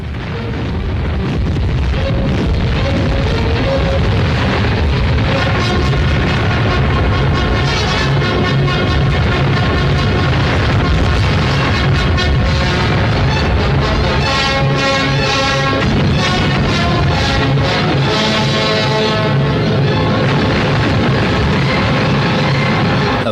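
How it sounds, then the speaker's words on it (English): Aerial bombs exploding among troops and reinforcement columns in a wartime winter campaign on the eastern front: a dense, continuous roar of heavy blasts and rumbling booms, loud and sustained throughout. "Our bombs land on groups of troops and reinforcement columns of the Bolshevists."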